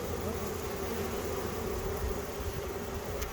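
Honeybee swarm pouring out of a backyard hive, a dense, continuous buzzing hum from many bees close by, steady throughout with no voices.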